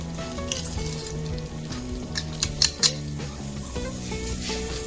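Garlic, 6 to 8 cloves, fries in a pan on medium-low heat for chicken fettuccine, giving a soft continuous sizzle with a few sharper crackles. Quiet music plays in the background.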